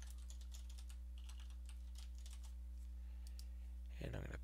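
Quick keystrokes on a computer keyboard while a title is entered on a custom page, light irregular clicks over a steady electrical hum, ending with a brief louder clatter.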